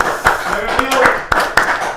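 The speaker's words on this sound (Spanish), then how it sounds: "Fuerte aplauso para Alberto." Several distinct, sharp claps ring out on a Paraguayan news and talk show as a guest is welcomed. Someone talks over the loose, uneven hand claps.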